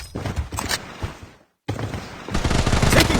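Rapid bursts of gunfire from the mobile and PC shooter game BloodStrike rattle loudly, break off for a moment of silence, then resume in a dense, sustained volley.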